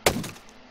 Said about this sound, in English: You can chop this tree down here.